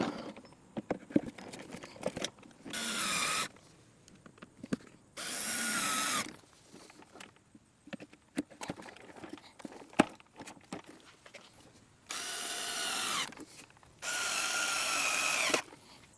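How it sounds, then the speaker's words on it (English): Power drill driving screws into the base of a Sun Joe manual leaf sweeper, four separate whirring bursts of a couple of seconds each, interspersed with quiet clicks and handling noises. "First, I'm going to attach the base to the sweeper body and then secure it with the screws."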